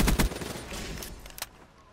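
An M27-like rifle in Call of Duty Black Ops 3 fires a quick burst of sharp, close shots, then a few fainter pops trailing off.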